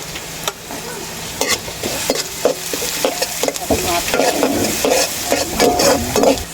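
Ginger and aromatics sizzle in a hot pan for squid adobo while a utensil stirs and scrapes through them, steady frying hiss with repeated close clinks and scrapes.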